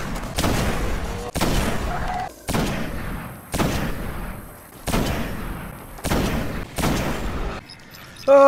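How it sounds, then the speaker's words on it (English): Battle noise from the Destiny video game as Taken and Cabal fight for a bridge, a series of about seven heavy booming blasts and gunfire bursts, evenly spaced roughly one per second, each loud and decaying, with a short tone at the end. "Taken and Cabal fighting for the bridge."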